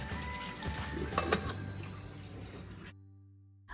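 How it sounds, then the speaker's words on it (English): Running tap water pours over cauliflower being washed in a home kitchen sink, a steady close splashing with a few drips, then the flow cuts off abruptly into near silence. "Then washing the cauliflower."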